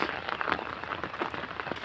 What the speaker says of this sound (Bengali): এখন টানা বৃষ্টি আসতেছে একটু জোরে আসে একটু আস্তে আসে